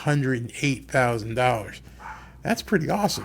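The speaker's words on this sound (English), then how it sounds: "That's my dog out in the yard making noise." A dog barks out in the yard, short yips and woofs heard briefly under and between a man's close speech.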